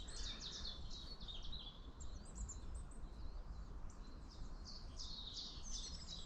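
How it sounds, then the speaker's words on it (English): A chiffchaff sings outdoors in spring, a faint, distant series of thin repeated chirps over a low steady background rumble. "We got Chiff Chaff in the back."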